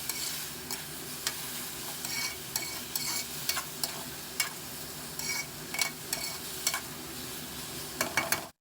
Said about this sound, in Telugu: త్రీ టమాటోస్ మగ్గడానికి ఒక హాఫ్ స్పూన్ వరకు సాల్ట్ వేసి ఒక్కసారి బాగా కలిపేసుకుని